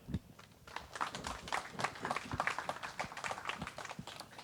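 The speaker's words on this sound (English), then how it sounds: "you should give yourselves a big round of applause for what you've done" Audience at a scholarship program welcome dinner clapping, a moderately loud patter of many hands with scattered sharper claps, steady throughout with no talk over it.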